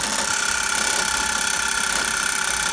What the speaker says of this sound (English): there's a lot of rattling going on, as you can hear